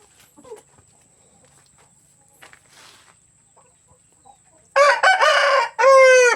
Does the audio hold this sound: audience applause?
no